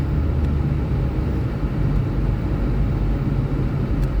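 A car drives along an empty road in Riyadh at night, its steady low engine and road rumble droning on without a break and with no voices.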